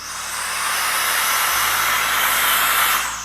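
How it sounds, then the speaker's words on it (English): VSGO sensor blower pushing a strong, steady rush of air at close range for about three seconds, loud and continuous with no voices. "Let me go ahead and blow off a little bit of this lens here"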